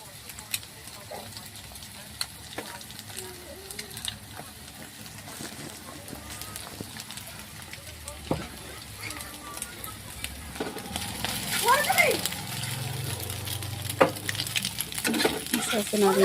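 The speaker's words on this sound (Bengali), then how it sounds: "এভাবে আস্তে আস্তে নাড়তে থাকবো যাতে না পুড়ে যায় আর সব সেদ্ধ হয় সুন্দর।" Vegetables cook in a pan while being slowly stirred, a low faint sizzle with light scraping that grows louder and busier toward the end.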